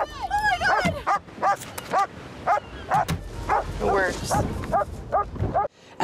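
Dogs bark in a rapid, regular run of sharp yips and bow-wows, loud and close, continuing for several seconds and stopping abruptly near the end.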